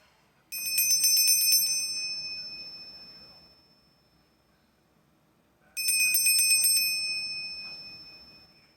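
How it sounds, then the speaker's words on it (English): A small bell struck twice, about five seconds apart, during a tarot card reading; each strike rings out bright and clear, then fades slowly in a long shimmering decay. "we're going to do a bell as well"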